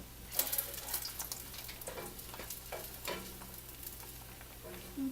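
Oil being spread around a hot pan before an egg goes in for okonomiyaki, a quiet, close sizzle with intermittent scraping and stirring strokes.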